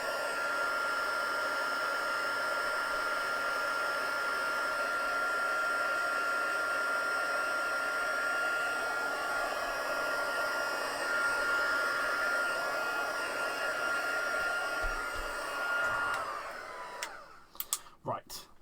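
Handheld hair dryer blowing to dry ink, a steady loud rushing whoosh running continuously, then cutting off near the end.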